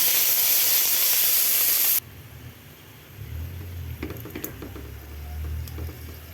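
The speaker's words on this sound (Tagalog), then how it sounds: "Pan-fry lang natin siya ng kaunti." Marinated pork ribs pan-fry with a loud, bright hiss at first. The sizzle then drops suddenly to a quieter crackle with a low bubbling undertone and scattered pops.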